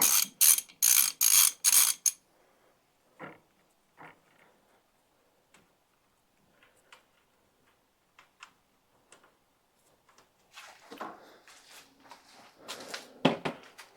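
A ratchet wrench works a 5/16 inch nut loose during dash removal on a John Deere 318 lawn tractor: five loud, sharp ratcheting bursts come first, then scattered faint clicks and a brief later clatter of handling noise.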